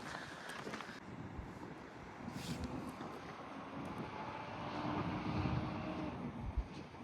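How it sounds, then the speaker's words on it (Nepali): Steady wind blows across the microphone on the West Virginia University campus in a continuous low rumble with a soft airy hiss, rising slightly toward the end. No one speaks. "मिठो हावा चलिरहेछ सरर"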